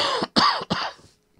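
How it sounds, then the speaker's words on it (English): A man gives a few quick, loud coughs close to the microphone, one right after another, with no talk. "I got to cough again."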